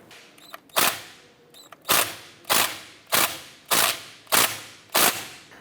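A socket wrench ratchets while loosening a brake bleeder screw on a Honda Accord, seven sharp, loud clicks at roughly even spacing with a few faint lighter ticks in between.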